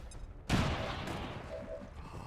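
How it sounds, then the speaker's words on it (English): Grenade blast in the video game XCOM 2, a sudden loud burst followed by a long rumbling decay and scattered debris, no voices. "We're clearing you guys out with grenades."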